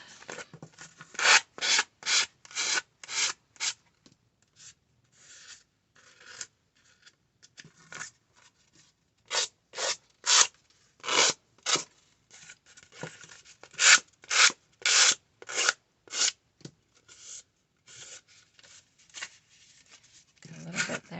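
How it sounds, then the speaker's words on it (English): A sanding block is drawn along the edge of a notebook's pages in repeated bursts of close, dry rasping strokes, some quick and rhythmic, with short pauses between runs and no voice. "I'm going to take my little sanding block and run it along the edge"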